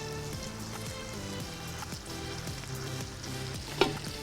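Frying oil sizzles steadily in a pan on a burger-and-fries cooking setup, a constant crackle under low musical tones with one brief sharp clink near the end.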